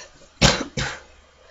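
Two close, sharp coughs in quick succession, the first slightly stronger, followed by quiet.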